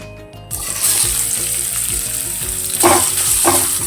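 Squeezed bitter gourd frying in oil in a pan, a loud close sizzle that starts abruptly and holds steady, with brief bursts of spattering near the end.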